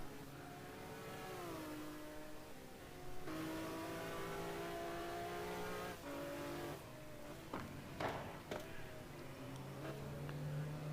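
A McLaren F1 race car in a GT1 racing video game at Algarve, its engine droning steadily with rising and falling pitch through gear changes, loud and continuous for the whole stretch.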